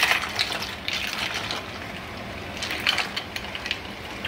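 Cold water is poured into an ice bath with a soft, splashy gush, in two brief bursts of rushing liquid that fade into a quieter trickle.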